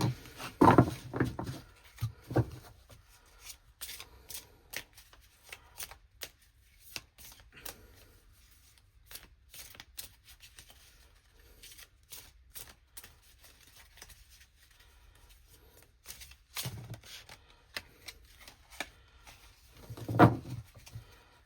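Tarot cards riffled and shuffled by hand, a quiet run of soft papery flutters and taps with a few louder bursts at the start and end, heard alone in a still room.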